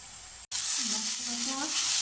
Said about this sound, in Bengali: এক চামচ কাঁচা লঙ্কা বাটা দিয়ে দিয়েছি আর ভাজা হয়ে আসছে